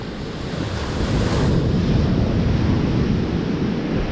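Rough sea surf rolls onto a Bristol Channel shore, a loud, continuous wash of breaking waves mixed with heavy wind buffeting close to the microphone.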